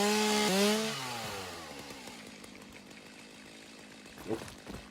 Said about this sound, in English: Okay, chainsaw time.